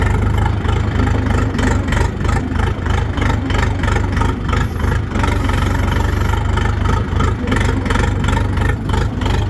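A loud Kentavr tractor engine chugs steadily close by with a rhythmic mechanical knock, rumbling continuously with no talking.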